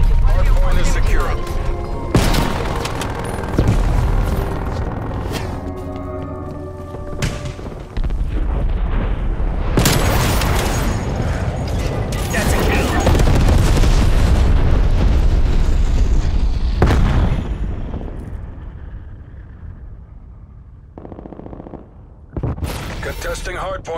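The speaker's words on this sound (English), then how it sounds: "Artillery targeting detected." Artillery strike explosions in Call of Duty: Black Ops Cold War multiplayer, loud repeated booms and blasts crashing over continuous gunfire and game noise, with a voice speaking in the mix.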